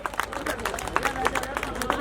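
An audience at a Buddhist community gathering claps for a speaker, scattered uneven claps over a murmuring crowd, with a voice talking through the applause.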